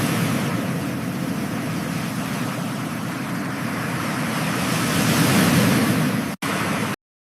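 AI-generated seaside ambience from Google Veo 3 with waves rolling onto a beach, a steady broadband wash that swells slightly toward the end before cutting off abruptly.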